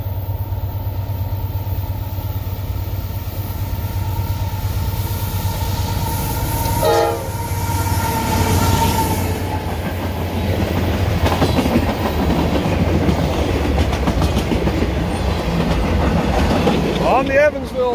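A southbound CSX manifest freight train rumbles past loud and close on the Evansville line in Nashville, with a horn blast partway through and steady wheel clatter building toward the end.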